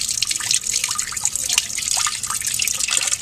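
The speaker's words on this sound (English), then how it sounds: "you have to rinse the beaker out with tap water next" Tap water runs and splashes while a glass beaker is rinsed out, a steady close trickle with irregular drips and spatters throughout, no voices.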